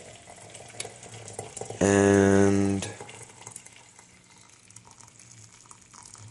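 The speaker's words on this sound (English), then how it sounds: "take some water from the kettle, and we are just going to pour it in" Water pours from a kettle into a teapot in a single loud, rising gush lasting about a second, set against quiet room tone with a brief spoken word.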